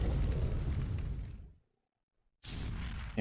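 A Dodorex's fire breath in Ark Survival Evolved roars as a loud, dense whooshing blast, cuts to a moment of silence, then erupts again.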